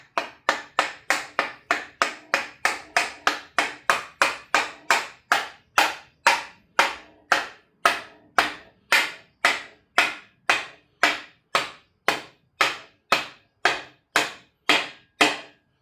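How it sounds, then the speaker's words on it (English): Steady, sharp metallic-wooden lump hammer blows during a Leyland 154 tractor restoration, about two per second, repeated evenly for the whole stretch, close and loud with no talking. "you get your lump hammer"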